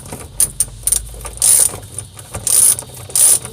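A ratchet tightening a bolt on a classic VW gear shifter: bursts of rapid clicking alternate with short pauses and little knocks, close and loud, with no talk.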